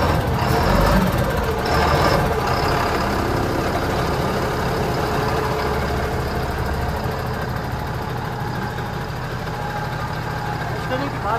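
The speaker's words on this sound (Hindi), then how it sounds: "आप इसके इंजन की साउंड को सुनिए एक बार।" A 2024 Mahindra Blazo X55 BS6 Phase-2 tractor-trailer truck with a 280 hp engine idles just after starting, a steady heavy low rumble that continues evenly while someone talks over it.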